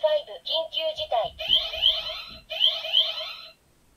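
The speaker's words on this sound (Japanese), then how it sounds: "フェーズ5になると、もう緊急事態ということで、かなり緊張感のあるアラームが鳴ります。" Emergency-mode alarm from an Ultraman X DX Xdevizer toy, a tense synthetic siren repeating in two loud bursts right after an electronic announcement voice from the toy.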